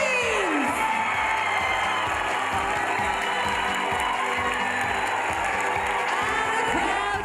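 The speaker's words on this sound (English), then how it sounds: "And the crowd go wild." A large crowd at the Miss World 2013 pageant roars with continuous cheering and applause, loud and dense throughout, with a steady rhythmic thumping underneath.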